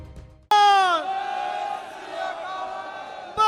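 A large political rally crowd in Uttar Pradesh's sugarcane belt erupts into a loud, sustained chant of battle cries, many voices shouting together close and forceful, then holding a steady roar.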